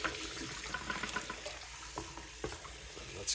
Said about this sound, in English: I'll do this whole step just with tap water.